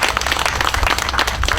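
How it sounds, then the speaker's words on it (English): Audience applause at a city entertainment meeting honoring trash and grass-cutting workers: dense, loud clapping from a nearby crowd, continuous and even for the whole stretch. "So I do want to give them a round of applause"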